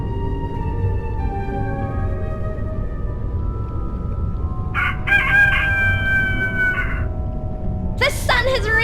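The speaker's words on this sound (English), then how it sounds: "The sun has risen and the rooster crows." A rooster crows at sunrise in the point-and-click adventure game A Vampyre Story: two clear, loud cock-a-doodle-doo calls, the second cut short, over a sustained musical backdrop.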